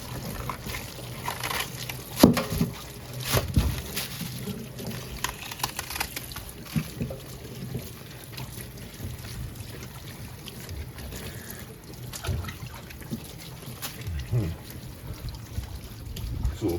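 Pak choy being rinsed under running water, with a steady trickle and splashing as the leaves are handled close by, while someone talks over it.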